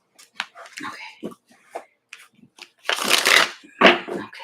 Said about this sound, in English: one more shuffle for Amira.